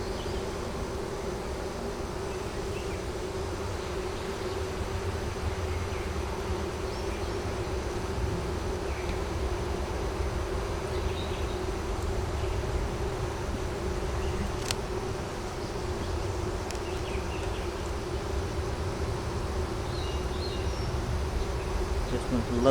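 Crowded honey bees hum around an open double deep hive during an inspection, a continuous close drone lasting throughout, with no talk heard.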